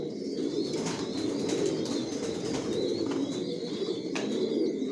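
Chocolate racer pigeons, a breeding pair sitting on eggs, coo steadily in a loft. Soft, continuous low cooing is layered with faint chirps and occasional rustles, close and unbroken.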